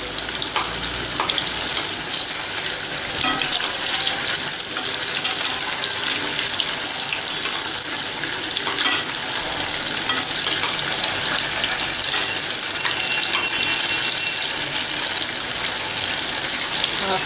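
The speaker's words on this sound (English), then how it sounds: "Fry it on a medium heat till golden brown in color." Vermicelli pakoda fry in oil over medium heat, giving a continuous, dense crackling sizzle that stays steady and close throughout, with no voices.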